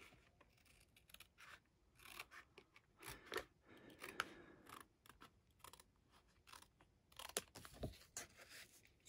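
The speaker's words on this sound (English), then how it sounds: "I think I'm gonna cut it like this is just some packaging," Scissors cut through packaging paper close up, faint snips and crisp paper rustles in an uneven run of short bursts, with no voices.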